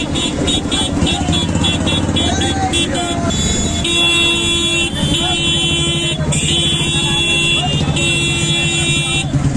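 Traffic at a Ram Navami bike rally in Ghatal, a dense mix of engines, repeated horn toots and buzzy beeping, loud and close, with people talking and calling out throughout.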